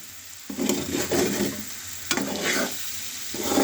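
Finger-cut potatoes with salt, chili and masala fry in a pan while a utensil stirs them, giving bursts of scraping and sizzling in three or four waves over a steady hiss.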